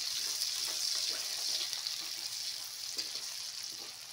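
Chopped onions and a bay leaf fry in mustard oil, giving a steady, close hiss and sizzle with faint crackles throughout and no talking.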